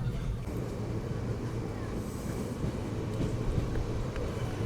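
The Teesta Torsa Express pulls out of Ambika Kalna station, a low continuous rumble of carriages rolling on the track, fairly quiet and steady with a faint hint of wind and voices.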